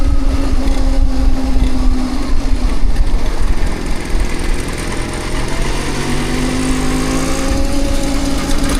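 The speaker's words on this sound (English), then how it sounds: "Isn't that a motorcycle?" A motorcycle engine drones continuously on a road ride, loud and close, with a steady buzzing tone that shifts slightly in pitch toward the end as traffic passes.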